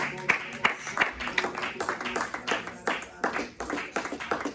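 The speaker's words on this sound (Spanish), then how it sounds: "Dele un fuerte aplauso al Señor, hermanos." A church congregation claps for the Lord during worship, a steady patter of hand claps running for several seconds beneath raised voices.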